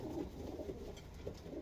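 A breeding pigeon gives soft, low cooing notes in short repeated bursts, faint and close, with no voices over it.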